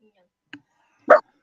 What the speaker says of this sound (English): You've got the dog barking now as you went to speak.